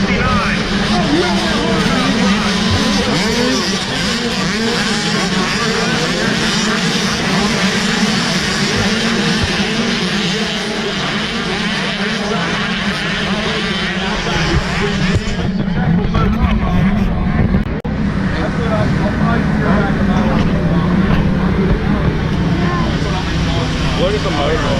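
Motocross bikes racing at the High Point MX National, a dense, loud wall of engine roar that persists throughout, with crowd and commentary voices mixed in and a brief dip in intensity partway through.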